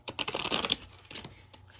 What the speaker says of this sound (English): And I'm just going to shuffle.